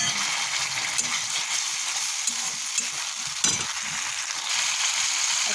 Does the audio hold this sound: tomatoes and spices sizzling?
yes